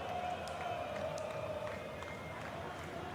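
Spectators cheer at the start of a marble race, a steady, dense crowd roar holding at even loudness throughout.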